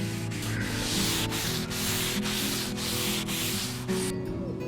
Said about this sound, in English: using a fine grade abrasive paper around P320 grade, like this one, lightly wipe over the paintwork